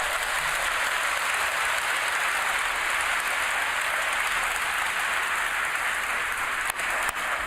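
Steady, dense applause fills a large conference hall at the COP28 climate summit after the final agreement is announced, many hands clapping continuously at even volume for the whole stretch with no voices over it.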